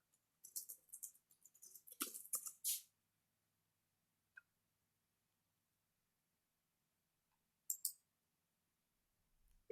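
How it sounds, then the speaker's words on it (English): A short run of quick, light keystrokes on a computer keyboard, close and soft, followed by long quiet with only a couple of isolated clicks. "So we can type in Abe Lincoln's dream."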